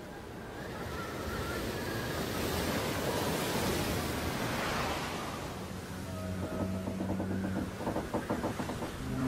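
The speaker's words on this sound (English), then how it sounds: "storms rage almost every day of the year, whipping hundreds of trillions of gallons of water into a ceaseless frenzy" Stormy ocean waves and wind make a broad, rushing roar that swells and fades, ending with a low rumbling tone and rapid pulsing.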